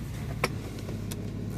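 Power door locks on a Pontiac G6 convertible clunk twice, sharp short clicks heard close over a low idling hum.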